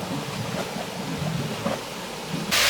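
Flowing water from a water feature at Spook Cave campground in McGregor, Iowa, a steady nearby rush and splash that swells to a louder burst at the end.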